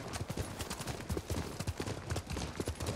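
Horse hooves clip-clop in a steady, brisk rhythm in Ghost of Tsushima, close and moderately loud, with no talk over them.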